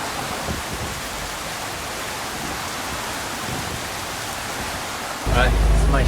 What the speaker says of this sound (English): it's my shift and it's raining a lot. There's a big squall.